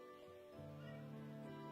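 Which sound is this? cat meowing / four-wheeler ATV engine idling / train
cat meowing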